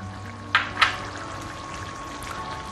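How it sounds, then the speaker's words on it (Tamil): A ground paste of coconut, cashew and fennel drops into a pan of channa masala gravy with two brief, soft wet plops close by, then only a low kitchen hum. "தேங்காய், முந்திரி, சோம்பு மூணையும் அரைச்சி வச்ச பேஸ்ட்டை இப்போ இதில் கடைசியாக சேர்த்திக்கலாம்."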